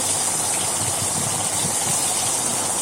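Eggplant slices fry in oil in a pan while being flipped, giving a steady, loud, hissing sizzle that runs unbroken throughout, with no talk.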